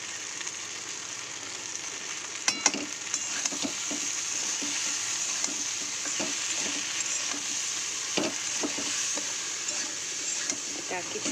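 Okra and potato curry stirs and fries in a pan with a steady, soft sizzle, punctuated by scraping spoon strokes and a few sharper clinks against the pan.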